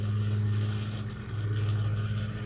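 A motorized Trackmaster Duck toy train with slightly drained batteries runs along its plastic track, giving off a steady, close mechanical motor hum with a low drone throughout.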